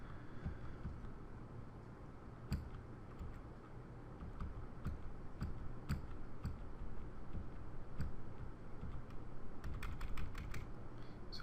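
Computer keyboard keys tapped repeatedly while cycling through options, sharp isolated clicks at irregular intervals that quicken into a rapid cluster near the end, close and distinct over a low background hum.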